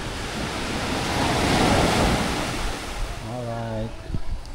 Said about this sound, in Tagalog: Pero yung hampas lang naman dito sa shore. Yung malakas ang tunog.